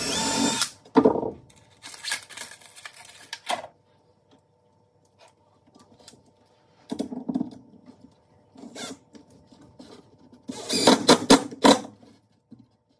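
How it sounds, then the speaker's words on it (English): Short bursts of a power drill whirring and driving screws into plywood, several separate runs with quiet pauses and a few clunks between them. "running the drill bit in again to make sure the screw goes in"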